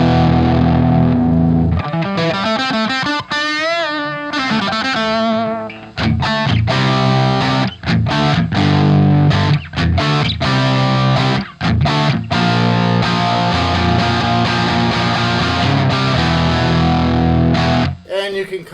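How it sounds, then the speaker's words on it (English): Heavily distorted electric guitar played through a Fender '76 Super Reverb head with the channel volume on 10 and the master pulled, chugging chords and sustained notes, loud and close with no talking. "I now have distortion."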